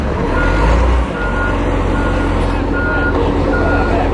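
A truck's reversing alarm beeps in a steady, loud rhythm over a heavy engine rumble at a building demolition site in Farnese, Italy.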